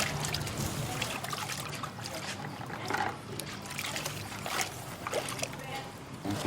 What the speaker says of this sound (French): On a de l'eau pour les refroidir.